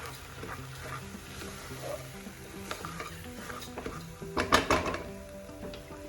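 Chopped brinjal and a small potato being stirred into a curry in a pan, with scraping spoon strokes over a soft sizzle and a brief louder burst of clatter near the end.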